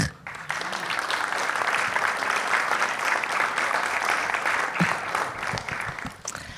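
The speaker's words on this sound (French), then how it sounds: "Je pense qu'on peut l'applaudir." Audience applause welcoming a film director guest onto a stage, a sustained wash of clapping from a crowd that begins abruptly and fades at the end, moderately loud.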